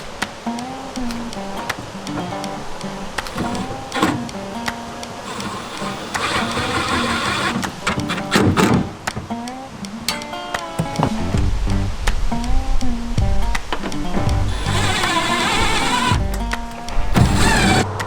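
Bolts being fitted by hand and tool into a bedside MOLLE panel on a Ford F-150 truck bed, with repeated metallic clicks, ratcheting and short whirring bursts close by, some louder spells midway and near the end.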